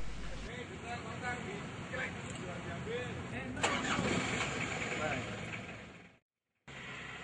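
A diesel car runs on biodiesel made from used cooking oil, its engine cranking over and settling into a steady, close, continuous rumble. A voice talks over it, and the sound cuts out briefly near the end.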